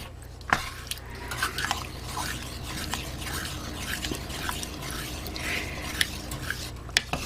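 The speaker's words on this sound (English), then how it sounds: "now I'm just going to add the cream gently" Cream poured gently into a chicken and broccoli casserole sauce and stirred, with soft scraping and clinking of a spoon against the pot, a few sharper taps, and faint liquid sounds throughout.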